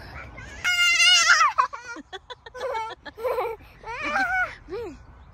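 Ducks at Furzton Lake in Milton Keynes, quacking and calling in a loud, busy run of harsh nasal cries close by, with a brief voice near the start.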